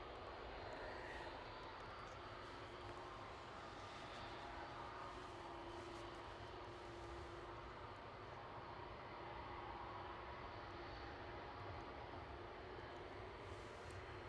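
A KLM airliner moves at Edinburgh Airport, its engines making a steady, fairly distant roar and whine that holds evenly for the whole stretch with no speech.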